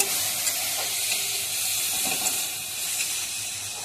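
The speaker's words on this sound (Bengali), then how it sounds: "দেখো মশলা কষাইছি। এবার মশলা থেকে এরকম তেল ছাড়বে।" Spice masala sizzles steadily in hot oil in a pan, a continuous close frying hiss with faint crackles throughout and no talk.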